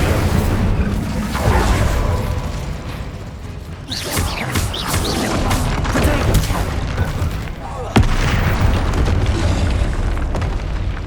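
Fire spell Incendio cast in the video game Hogwarts Legacy, heard as a dense run of booming, crackling bursts within busy game sound and layered voices, with a sharp hit near the end.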